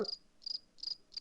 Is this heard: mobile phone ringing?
no